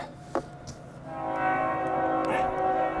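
A train rumbles in the distance during a snowstorm and grows louder, its horn sounding faintly with sustained tones as it approaches.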